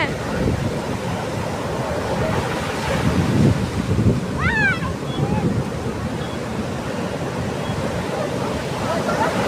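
Steady roar of surf washing onto a beach, continuous and fairly loud, with a brief high chirp partway through.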